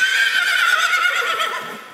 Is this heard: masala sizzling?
no